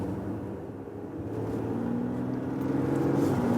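An Audi A6 sedan pulling away on the road in Germany: a low engine hum that swells gradually louder as it accelerates, with no talking.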